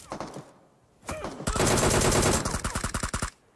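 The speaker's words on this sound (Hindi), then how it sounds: "मैंने इतनी गोलियां मारी उसे हेड हेड ही हेड" Automatic gunfire rings out in the mobile battle royale game BGMI. Short bursts are followed by a long, loud stream of rapid shots that ends in distinct separate cracks, all close and dominant.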